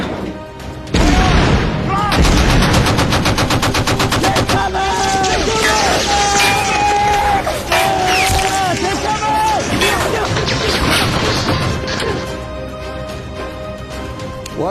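Heavy naval deck guns pound in rapid, repeated booms and bursts of gunfire during a wartime sea battle, loud and continuous across the scene, with shouted voices and dramatic score mixed in.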